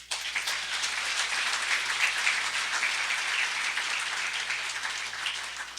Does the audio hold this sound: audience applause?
yes